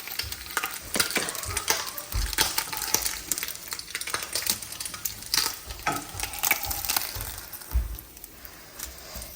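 Food frying in an overfull pan of oil, with steady close sizzling and spattering, plus scattered clinks and scrapes of stirring throughout.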